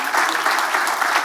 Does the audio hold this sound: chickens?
no